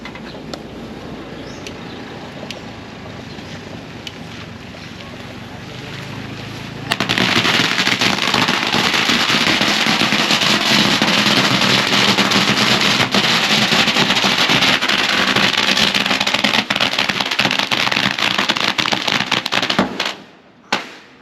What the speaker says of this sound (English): They do these burning of firecrackers for religious beliefs.